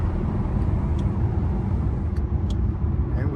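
A 2005 Ford GT driven in fourth gear, its engine a steady, loud low rumble heard from inside the car, with a few faint clicks above the drone.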